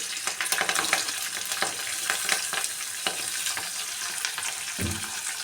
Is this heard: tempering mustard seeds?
yes